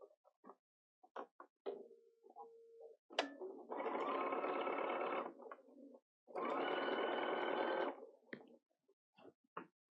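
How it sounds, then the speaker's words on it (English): Sewing machine stitching along the bottom of a fabric market bag at a quarter inch, two sustained bursts of steady motor whirring separated by a pause, with small clicks and handling taps around them. "now I'm going to sew along the bottom at a 1/4 inch"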